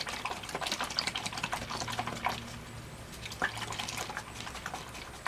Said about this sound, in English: Rinse my brush.